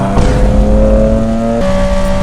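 A sportbike engine revs loudly and close as the bike accelerates onto the road, its tone climbing and then shifting abruptly to a new pitch partway through, with no voices.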